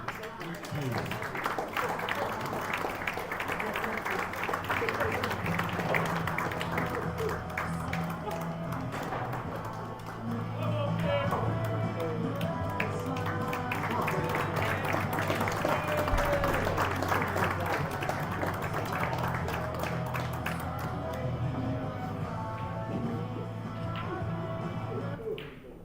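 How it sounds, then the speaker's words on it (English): A pool hall audience gives a sustained round of applause welcoming player Anthony Ginn at a GB9 Tour main event final, steady dense clapping that carries on alone for a long stretch before cutting off abruptly. "Please welcome him by giving him a huge round of applause"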